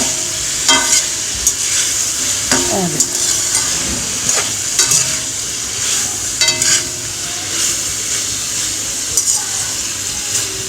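Vegetables with onions and tomatoes for fried rice sizzle loudly in a hot pan, with a steady hiss of frying broken by repeated scraping and clinking as a spoon stirs them.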